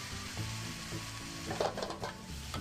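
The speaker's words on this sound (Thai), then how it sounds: "เติมเสร็จแล้วก็ผัดต่อครับ" Holy basil stir-fry sizzles loudly in a hot pan after a splash of water, with steady frying hiss and a few scraping stirs of the spatula.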